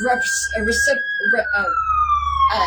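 A wailing siren sweeps slowly in pitch, loud and close, while a voice talks over it.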